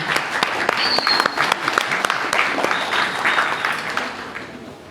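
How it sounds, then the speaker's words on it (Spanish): Audience applause at a university law and political science faculty event greets a woman doctor, dense clapping with sharp individual claps standing out, fairly close and loud, easing off toward the end. "Un aplauso, por favor, para la doctora."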